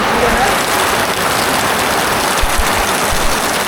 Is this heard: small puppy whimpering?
no